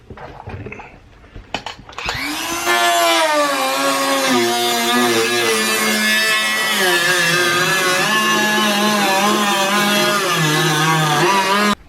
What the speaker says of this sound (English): So we got the Dremel out with a cutoff wheel, and it's making pretty quick work so far.